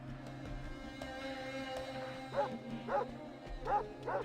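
A dog in the video game Fallout 2 gives a run of short, clear barks and yips over a low humming game background, with no talk.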